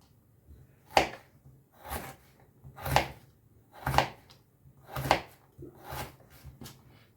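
A knife chops vegetables on a board in slow, regular strokes about once a second, close and fairly quiet, with no talking.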